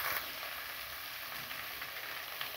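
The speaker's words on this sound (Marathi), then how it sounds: "आपल्याला घालायचे थोडे मोहरी, थोडे जिरे, हे पण तेलात छान फ्राय करून घेऊया।" Mustard seeds, cumin and tomato fry in hot oil while a breakfast of rava upma is made, a steady close sizzle with no voices.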